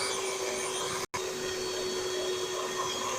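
An electric hand mixer creams vanilla cake batter at speed 5, giving a steady, loud motor whine that runs throughout except for a brief cut near the start.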